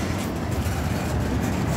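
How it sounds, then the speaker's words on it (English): A CSX intermodal freight train rolls past in Jacksonville, Florida, a dense, steady roar of wheels and cars filling the whole stretch without breaks or voices. "It literally was an intermodal train only."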